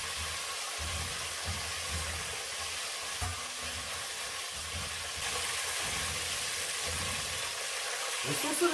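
Battered chicken pieces for Chinese lemon chicken fry in hot oil, a steady close sizzle and crackle with faint low bubbling running evenly throughout.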